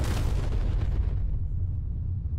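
A nuclear mining charge goes off in the video game Hydroneer, a loud, deep blast that rumbles broadly and then fades over about two seconds.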